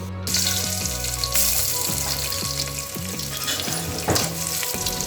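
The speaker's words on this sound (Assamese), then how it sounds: "এতিয়া মই সেইখিনি তেলতে অলপমান কেইটামান মিঠি গুটি দি তাতে কাটি থোৱা জিকা, বিলাহী আৰু আলু পাচলিকেইটা দি দিম।" Sponge gourd, tomato, potato and fenugreek seeds frying in hot oil, a loud, continuous close sizzle with stirring clatter and scraping in the pan throughout, no voices.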